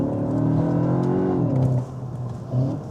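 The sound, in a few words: 2025 Cupra Terramar engine revving while accelerating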